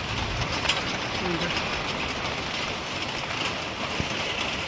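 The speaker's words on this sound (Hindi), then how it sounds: "कितनी भयंकर बारिश लग गई, पूरा बरसात वाला मौसम लग गया" Heavy monsoon rain pours steadily in a foggy Himalayan hill setting at the start of the Ashadh rainy season, a dense continuous hiss with a few birds cooing faintly through it.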